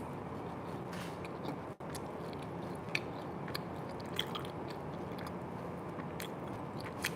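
Someone chews a brown sugar glutinous rice cake up close, giving soft, sticky, moist mouth sounds and faint smacks over a quiet room hiss.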